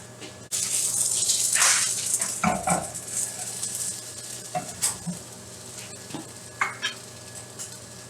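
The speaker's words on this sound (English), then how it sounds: "with your spatula, grab the French toast, lift it, and then flip it" French toast sizzles in a pan as a spatula slides under a slice and flips it, bringing sharp scrapes and a burst of hiss over a continuous close frying sound.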